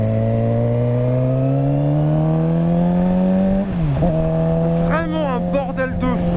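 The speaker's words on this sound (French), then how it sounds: "Il y a ça aussi qui rend fou sur cette moto, c'est le pot d'échappement." Suzuki GSX-R sport motorcycle with a loud, unbaffled exhaust, revving up in a rising tone, dipping as it shifts, then climbing again, heard close and loud from the rider's position.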